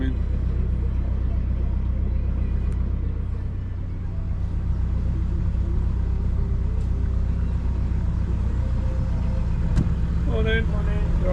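A narrowboat's diesel engine on the Grand Union Canal throbs in a steady, close, low rumble throughout as another boat passes, with faint distant sounds over the continuous drone.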